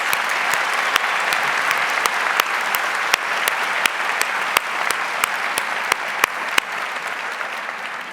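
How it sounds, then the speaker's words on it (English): Audience applause at an honors convocation fills the hall, a dense, steady patter of many hands clapping, with sharp individual claps standing out at regular intervals above the crowd. "Please join me in another round of applause."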